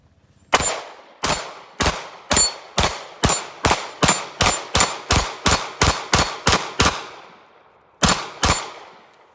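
Rapid, evenly spaced gunshots from a Glock 19X pistol, fifteen loud cracks in quick succession, then a short pause and two more shots. Each has a sharp attack and a brief ringing decay.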